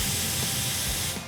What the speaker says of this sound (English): we're going to drop out any of that leftover air